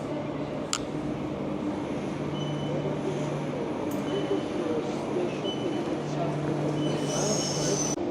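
A train pulls into an Australian station, a steady loud rumble of wheels and carriages with a sustained hum, a brief high squeal near the end and a few sharp clanks.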